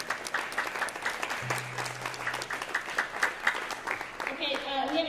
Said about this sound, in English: let's now give your parents a round of applause